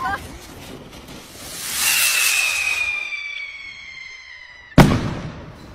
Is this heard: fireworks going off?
yes